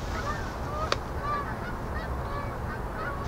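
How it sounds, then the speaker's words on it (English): Geese honk repeatedly in a loud, overlapping chorus, with one sharper call standing out over a steady low rumble of background noise. "damn geese. I don't know if you guys could hear those guys, but man, they're loud."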